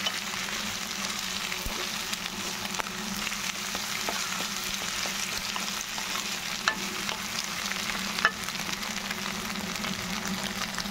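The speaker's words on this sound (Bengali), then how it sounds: "এই যে দেখো ডিমটা দিয়ে কীভাবে আমি নেড়ে চেড়ে নিচ্ছি।" Eggs are stirred and fried in a pan for a simple tiffin dish. A steady, even sizzle runs throughout, with faint scraping from the stirring and occasional soft clicks.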